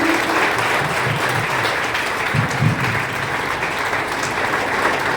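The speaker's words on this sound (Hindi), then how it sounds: "तो सभी बच्चे स्टैंडिंग ओवेशन देकर सभी का हार्दिक स्वागत करेंगे। स्टैंडिंग ओवेशन तालियां बच्चे रहनी चाहिए।" Students at a school assembly give a standing ovation, sustained crowd applause filling the hall steadily and loudly throughout, with some low voices mixed in.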